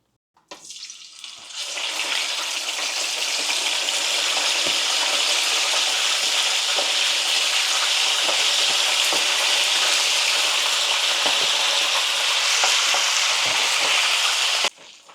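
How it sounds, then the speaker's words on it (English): Steady, loud sizzling and crackling of chicken frying in hot oil, starting abruptly and continuing evenly before cutting off near the end. "I'm done frying the chicken"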